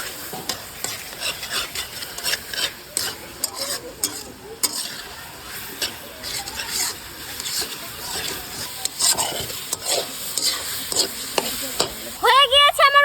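Taro leaves cook in a pan while a spoon stirs them, with steady scraping and rubbing strokes over a soft sizzle, and a brief louder clatter near the end.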